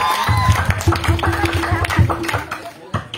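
An audience claps for contestant number 02 at a preaching competition during an anniversary celebration, with brisk, uneven hand claps mixed with crowd noise and voices.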